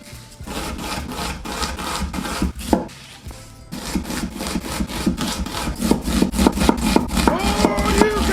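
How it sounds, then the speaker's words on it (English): A knife finely chops red onions on a cutting board in fast, even rhythmic taps, loud and close, with a brief pause partway through and no talking. "I'm using red onions. You want to finely chop them."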